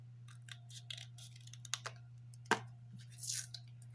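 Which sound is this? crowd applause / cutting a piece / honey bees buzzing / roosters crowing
cutting a piece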